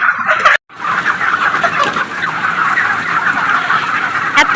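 Chickens clucking and squawking in a dense, continuous flock chorus, loud and close, with a brief drop near the start.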